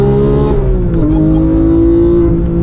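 A sports car takes a turn at about 75 mph, its engine holding a loud, steady drone that dips briefly and then climbs again under acceleration, close to the listener and continuous throughout.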